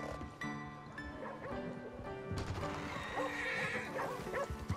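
A horse in the Red Dead Redemption 2 video game gives a loud whinny, with hoof clip-clops and other game sounds layered around it.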